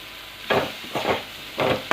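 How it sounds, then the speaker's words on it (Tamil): Grated coconut and turkey berries are stirred and roasted in a pan, giving four short scraping, sizzling bursts of the spoon against the pan with quiet gaps between them. "சும்மா இப்படி பரட்டி விட்டு அந்த தேங்காயில் இருக்கிற ஆயில் தன்மை வந்து போகணும்"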